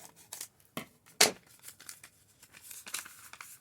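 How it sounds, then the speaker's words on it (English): A plastic bag holding horse-ranch dirt crinkles and rustles close up in scattered bursts, with one sharp loud crackle near the middle and softer handling noises around it. "I think I feel a plastic bag in there."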